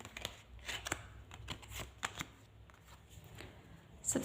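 Tarot cards are shuffled up close, a series of soft crisp riffles and flicks at an irregular pace, fairly quiet, with no talking.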